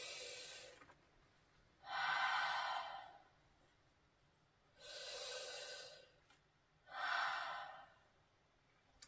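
Slow, deliberate breathing exercise: four loud, close breaths, each a rushing inhale or exhale lasting about a second or more, separated by quiet pauses.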